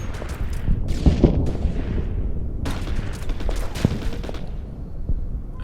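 Artillery fire in the Order of Battle strategy game at Saipan, a dense rumbling barrage of booms and blasts that rolls on steadily and loud, with sharper hits scattered through it.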